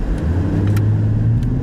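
A 2018 Lexus LS 500 accelerates hard, its steady engine and road rumble building continuously from inside the cabin, with no pauses or voices.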